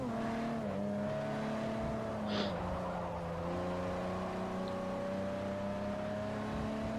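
Race car engine in Forza Motorsport 4 holds a steady, loud drone through the whole stretch, its pitch sliding down with a gear change and then climbing slowly, with a brief tire squeal near the middle.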